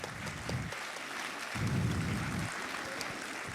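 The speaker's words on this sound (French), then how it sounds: "Je vous demande de les applaudir aussi." An audience at a business awards ceremony applauds a group of students, giving moderate, continuous clapping with a fairly distant, roomy quality and a few brief low thumps beneath it.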